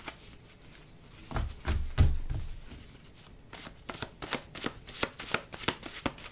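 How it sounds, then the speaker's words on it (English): Tarot cards are shuffled close by in soft, quick riffling bursts, followed by a run of separate flicking taps as they settle. "so I have to be careful how I shuffle."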